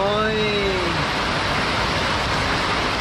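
Heavy rain pours down at Patina Playa, a steady, loud broadband hiss that fills the whole clip, with a brief voice-like tone trailing off in the first second.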